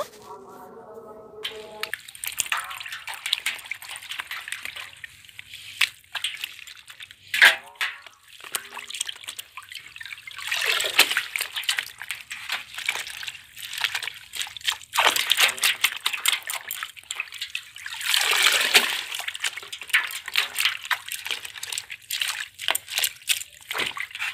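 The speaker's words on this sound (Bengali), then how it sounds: "কপিটা সুন্দর করে কুচিয়ে নেওয়া হয়ে গেছে, এবার ফ্রেশ করে ধুয়ে নেব" Chopped cabbage being washed in water in a village kitchen, with repeated sloshing, splashing and dripping close by, coming in uneven bursts over the whole stretch.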